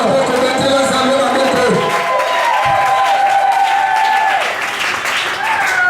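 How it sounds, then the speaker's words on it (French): A church congregation bursts into loud, sustained applause and cheering during an evangelistic service, dense and close throughout, with a voice talking over it. "J'aimerais que tu acclames ce soir."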